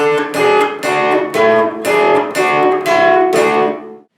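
A guitar plays the Grateful Dead's Jack Straw melody with supporting notes on the string above, giving about eight ringing two-note plucks at a steady pace, alone, ending in a quick stop.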